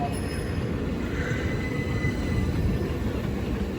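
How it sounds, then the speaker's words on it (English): A train runs into platform 6 at a station without stopping, a steady close rumble of wheels on rail with a faint high squeal. "The train now approaching platform 6 does not stop here."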